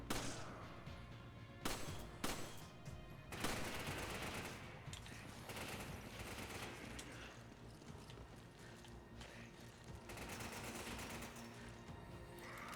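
Rapid game gunfire crackles in dense bursts and a sustained volley, with sharp shots standing out at the start over a busy, noisy mix.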